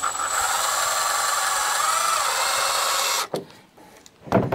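A power drill drives screws into wood during a chicken plucker build. It whirs loud and steady for about three seconds, then stops, and a few short knocks and clicks follow.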